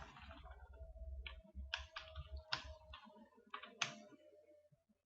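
A computer mouse clicks as a C source file is saved in Turbo C, giving a handful of quiet, close, sharp clicks spaced irregularly over a faint background hum.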